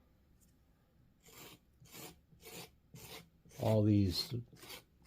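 Rhythmic rasping strokes as a tool scrapes bumps and undulations off the surface of a large clay olla pot, several repeated passes that grow louder near the end, with a brief spoken phrase.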